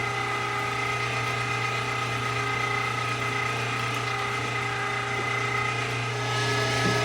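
An electric meat grinder churns through sausage meat for spicy pizza sausage, a steady motorized whir with a constant hum and mechanical ratcheting that runs continuously and close, with no talk over it.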